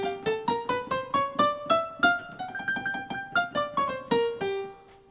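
Rock and roll piano plays a climbing run of octaves in G, each struck note ringing clearly in a steady sequence, close and solo with no voices.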